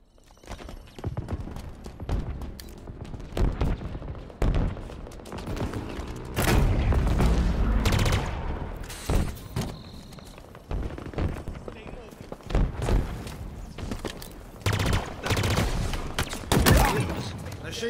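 Automatic machine gun fire in a Halo Infinite Big Team Battle capture-the-flag match, loud bursts and booms with in-game announcer voice and other game sounds layered throughout.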